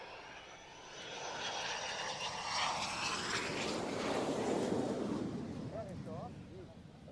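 A painted-up aircraft flies past with a powerful engine roar that swells to a loud peak and then fades, its pitch sweeping downward as it passes.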